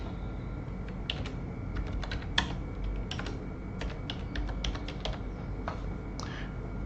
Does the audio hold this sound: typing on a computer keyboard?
yes